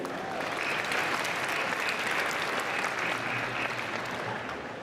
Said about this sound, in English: I know we can give more applause than that.